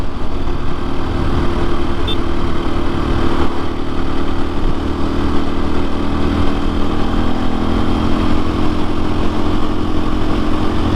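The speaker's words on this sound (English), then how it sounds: "This bike will run 55 miles an hour all day long." A KTM motorcycle cruises at about 55 mph, a loud, unbroken engine drone mixed with wind rush that holds steady throughout, with no speech.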